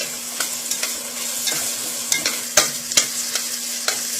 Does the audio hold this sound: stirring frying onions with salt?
yes